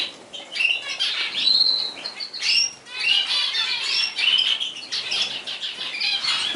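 Zebra finches and parrot finches call busily in an aviary, a dense stream of high chirps and squeaky calls mixed with wing flutters, close and continuous.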